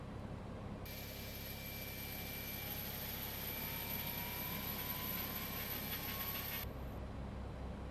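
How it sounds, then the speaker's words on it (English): An Airbus A300-600 jet engine in the X-Plane 11 simulator spooling up, a steady whining roar with a slowly rising tone that sustains for several seconds and then cuts off abruptly, over a low background rumble. "All right, engine's spooling up."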